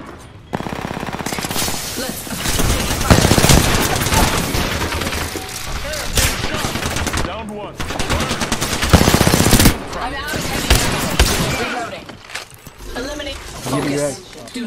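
Gunfire in Apex Legends rips out in loud, dense automatic bursts with sharp single shots and impacts, pausing briefly between volleys, while voice lines and speech surface amid the shooting.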